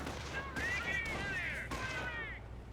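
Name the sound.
gunfire and artillery support firing, Company of Heroes video game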